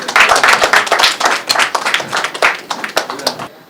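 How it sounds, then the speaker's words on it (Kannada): An audience claps for an actor at a stage event in Kannada cinema, a dense, steady round of applause that runs throughout and thins out just before the end. "ಒಂದ್ಸಲ ಬಂದ್ಬಿಟ್ಟು ನೀವು ಚಪ್ಪಾಳೆಯನ್ನ ಇಟ್ಟಿಸ್ಕೊಳ್ಬೇಕು"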